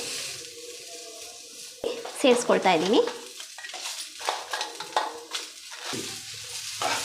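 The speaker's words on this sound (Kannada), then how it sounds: "ಈಗ ಕರಿಬೇವಿನ ಸೊಪ್ಪು ಸೇರಿಸ್ಕೊಳ್ತಾ ಇದ್ದೀನಿ" Curry leaves hit hot oil in a pan with coriander seeds, giving a sudden loud sizzle and crackle that settles into steady frying, with stirring scrapes, while a voice talks over it.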